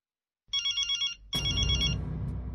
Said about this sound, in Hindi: इस वक्त किसका फोन आ गया?